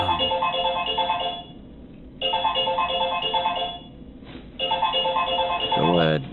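A phone ringtone plays loudly in repeating bursts, each a two-second tonal pattern separated by short gaps, with a rising chirp at the end.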